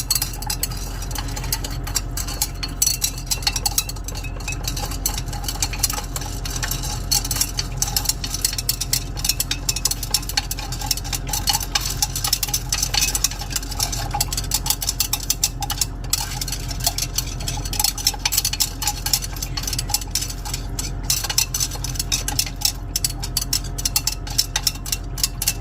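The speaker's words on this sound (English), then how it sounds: "Give this a stir." Continuous scraping and swishing as a citric acid, salt and hydrogen peroxide silver recovery solution is stirred, a steady close rhythmic churn lasting throughout with a low hum beneath.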